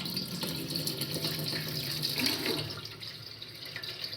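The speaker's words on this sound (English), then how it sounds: "I will fill up the rest of the pot until it's just covering about 1 inch or 2 above" Tap water runs steadily into a large canning pot for blueberry jam, a continuous close hiss and splash at moderate level with no talking.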